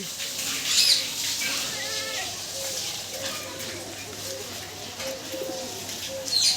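Pigeons coo repeatedly inside a loft, soft low rolling calls recurring close by over a steady background hum, with a brief high chirp or two and occasional faint voices.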